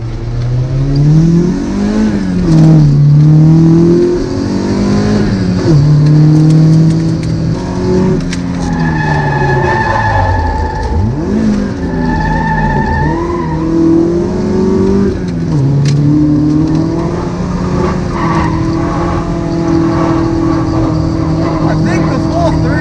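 A Toyota AE86 with a 4.3:1 final drive drifts hard on a dry track on half-worn tires, its engine revving loud and close in rising and falling surges with brief tire squeals, steady throughout.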